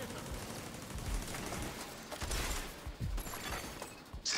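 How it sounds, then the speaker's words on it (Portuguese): An enemy turret fires in a firefight in The Division 2, a dense, fairly quiet rattle of gunfire and mechanical clatter with several sharper bursts mixed into game noise. "Estão usando uma torreta!"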